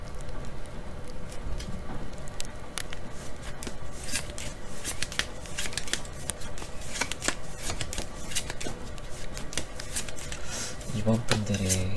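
Tarot cards shuffled by hand in quick, continuous riffles and slides, a dense papery rustle with crisp flicks heard up close.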